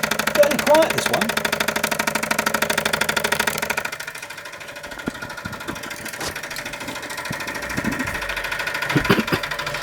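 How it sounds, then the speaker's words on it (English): A 1950s Mamod Minor 1 model steam engine runs close by with a quick, even mechanical chuffing. The flywheel has a slight wobble. A voice talks over the running engine. "Quiet. Fairly quiet, this one."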